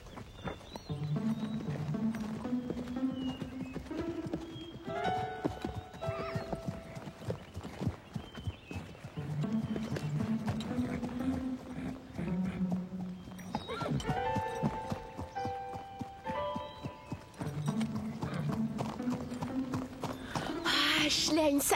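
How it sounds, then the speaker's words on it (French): Pony hooves clip-clop in a steady rhythm while a horse whinnies, the sounds close and loud beneath a dense layer of voices and background music. "Ce n'est qu'un poney."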